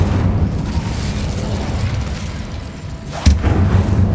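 Incendio fire spell from Hogwarts Legacy erupts in a sudden burst with a short fiery whoosh, standing out loudly above a dense, rumbling game soundscape.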